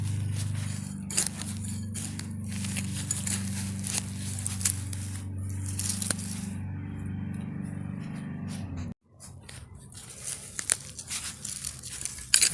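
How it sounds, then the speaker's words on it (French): A hand tool works through garden soil in a vegetable bed being prepared for leek transplants, loosening it without turning it, with repeated close scraping and crumbling strokes over a low hum, then a brief pause before the scraping resumes. "Je me contente de décompacter comme je le ferais avec une grelinette"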